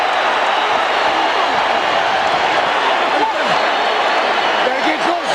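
A steady, roaring boxing arena crowd at the 1998 Evander Holyfield vs Vaughn Bean fight cheers loudly and without pause, a dense wash of many voices with faint shouts poking through.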